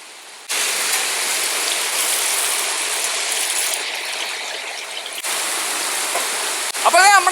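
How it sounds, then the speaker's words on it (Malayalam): Cashew nuts frying in very hot oil for a Thalassery chicken dum biryani, a loud steady sizzle that starts abruptly and continues, with brief clinks near the end. "അണ്ടിപ്പരിപ്പ് ഇട്ടുകൊണ്ട് തന്നെ നല്ല ഹീറ്റ് ആയത് കാരണം പെട്ടെന്ന് തന്നെ ഫ്രൈ ആയി വന്നിട്ടുണ്ട്"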